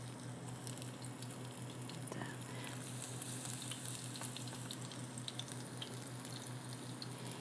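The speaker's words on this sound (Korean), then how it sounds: "이 짜르르 하면서 기름 끓는 요 소리가" Oil sizzles and crackles continuously in a pan while pan-frying Korean jeon (savory pancakes), a steady close frying hiss with scattered pops and a low hum underneath.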